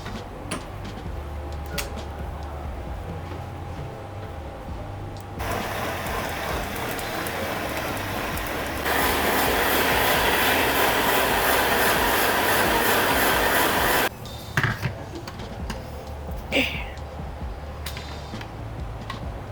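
A blender whirs in two stages, a steady roar that steps up louder midway and runs about nine seconds before stopping, leaving a few light clatters and rustles.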